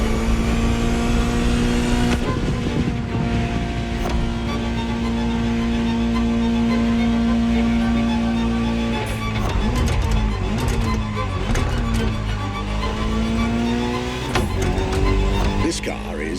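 A Ferrari 250 GTO's engine drones steadily at speed in The Crew Motorfest, then its pitch shifts through gear changes, loud and continuous, with someone talking over it.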